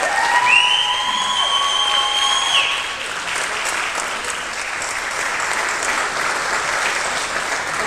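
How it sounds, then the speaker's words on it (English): A school crowd applauds and cheers for the class of 2021 choral seniors, loud sustained clapping with whoops and a whistle near the start, then settling into steady even applause. "let's have another big round of applause for our class of 2021 seniors"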